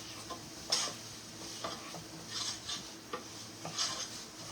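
Utensil scraping and stirring in a pan as aromatics for Thai coconut curry dumpling soup are sautéed, with a faint sizzle and a handful of clinking strokes spread through the moment.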